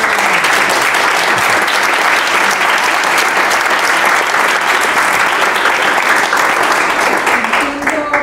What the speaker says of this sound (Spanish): Les damos un aplauso a nuestro...